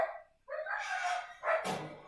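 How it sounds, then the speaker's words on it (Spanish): A small dog barks at close range, giving several sharp, high yips in quick bursts with a short pause between them. "El perro chiquito hace mucho ruido."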